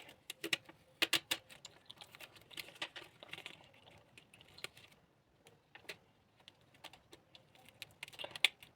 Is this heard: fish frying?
no